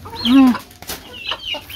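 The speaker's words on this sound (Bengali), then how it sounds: "এই হচ্ছে আমার ফার্মি মুরগি।" Adult Egyptian Fayoumi hens on a farm give a few close, loud clucks and short throaty calls in quick succession over a brief moment.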